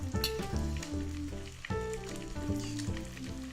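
Steady frying sizzle of chops in a hot pan, partly masked by louder background music with sustained tones.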